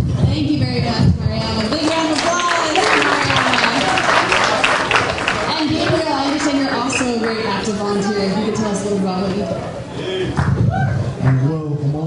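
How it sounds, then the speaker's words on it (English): A crowd at an MLK Day of Service event in New York applauds a volunteer, with steady clapping and cheering sustained throughout and voices mixed in. "Big round of applause for Mariana."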